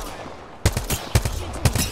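Gunfire in Apex Legends, a ranked match played as Lifeline, cracks out in three sharp bursts about half a second apart after a quiet opening, each loud report followed by a short echoing tail.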